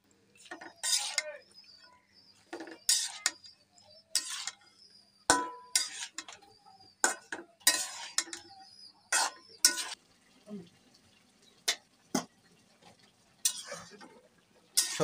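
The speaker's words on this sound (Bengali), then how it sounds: "নেড়ে চেড়ে মশলার সাথে মিশিয়ে নেব সবজিগুলো।" Vegetables with spices being stirred in a pan for a rohu fish curry with beans and tomato: irregular close scrapes and clinks of a spoon on the pan, with faint sizzling between strokes.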